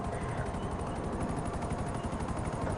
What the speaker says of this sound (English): You hear that chopper?